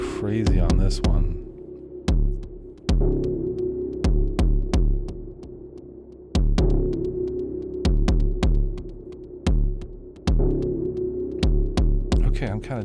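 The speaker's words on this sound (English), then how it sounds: "the reverb's crazy on this one" Heavily reverberant instrument preset played as a run of sustained tones, each note struck sharply and ringing out in a long wash of echo, loud and close, with pauses between phrases and no talk.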